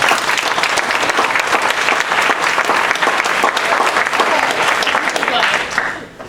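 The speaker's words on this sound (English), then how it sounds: "Give him a round of applause." Audience at a law school career services bootcamp applauding, sustained even clapping from a room-sized crowd for about six seconds before fading at the end.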